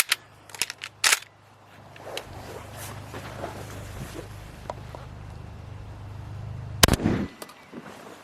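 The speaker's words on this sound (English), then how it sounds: "Man, that 12 gauge is quite a shot compared to that 20 we did shot a little bit ago." A 12 gauge shotgun firing a Winchester Super X waterfowl load goes off in sharp reports at the start and one very loud blast near the end, with a low steady engine-like hum underneath.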